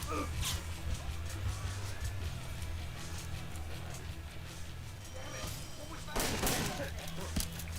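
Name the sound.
riot shotgun gunfire in Splinter Cell video game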